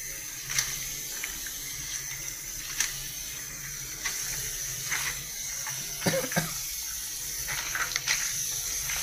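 Running water while crabs are washed outdoors, a steady close splashing flow with intermittent louder sloshes and clatters as the shells are handled, no talking.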